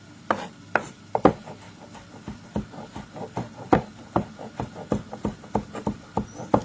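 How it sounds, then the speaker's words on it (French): A knife chops garlic on a cutting board in a quick, uneven run of close, sharp taps, about twenty strikes with brief pauses between them, and no one speaks. "Je suis en train d'émincer l'ail."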